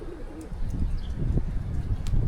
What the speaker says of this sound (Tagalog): Oh, lipad na mga kalapati ko.